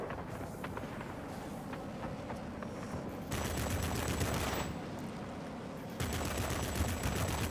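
An aircraft's front gun fires in the IL-2 flight sim game, with bursts of rapid machine-gun fire over a constant roar of engine and wind, loudest in two stretches.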